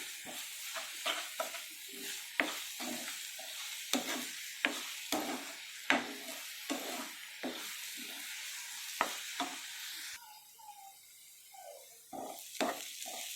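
Ginger garlic paste frying in a pan with onions for egg bhurji, a steady sizzle broken by repeated sharp scrapes of a stirring spoon, close and without talk.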